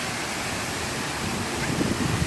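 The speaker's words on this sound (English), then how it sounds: "I have a local waterfall in my area." A local waterfall pours with a steady broadband rush of falling water, heard close and continuous with a slightly stronger low rumble toward the end.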